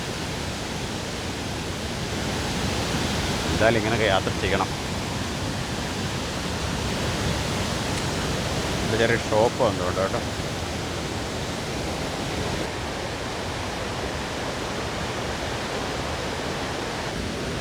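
Ezharakund Waterfalls in the Paithalmala valley of North Kerala, a steady broadband rush of falling water, continuous and fairly close, with someone talking briefly over it twice.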